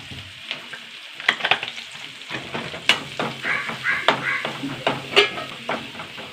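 Curry leaves, three dried red chillies and a pinch of turmeric fry in hot oil, a close sizzle broken by sharp pops and crackles with occasional stirring, no one talking.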